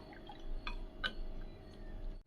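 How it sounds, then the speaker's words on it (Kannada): A little water is added to tambuli, a buttermilk-based dish, giving a brief, faint trickle and a couple of soft drips over a couple of seconds, with no voices. "ಸ್ವಲ್ಪ ನೀರು ಸೇರಿಸ್ಕೊಂಡಿದ್ದೇನೆ."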